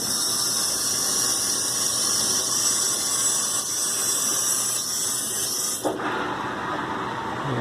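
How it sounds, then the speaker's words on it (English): Water rushes into a newly replaced hot water heater tank with a steady hissing flow and a thin high squeal, then the tone shifts abruptly near the end as the fill changes. "It sounds like it's filling up the hot water heater."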